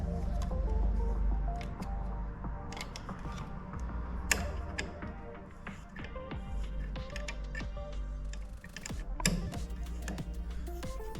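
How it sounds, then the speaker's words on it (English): Bolts being snugged down on the vacuum switch of a Freedom PS21 pellet stove, a run of small metallic clicks, ratcheting ticks and tool taps close by over a low background hum. "No need to over crank these down, we're just snugging them up."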